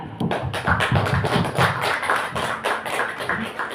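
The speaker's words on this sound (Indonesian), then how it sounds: "Kepada Ibu Rini Winingsi kita beri tepuk tangan." A small group claps for the next presenter at a teacher training session, giving a brief, close round of uneven applause lasting a few seconds.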